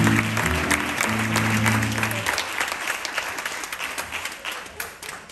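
Loud audience applause at a flamenco show, dense continuous clapping that carries on for several seconds, with low tonal music underneath at the start before fading out.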